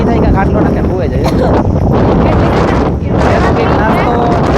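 Strong, cold wind at Khimeshwar Mahadev near Kuchhadi, Porbandar, roars steadily into the microphone as loud, constant buffeting, with voices talking underneath.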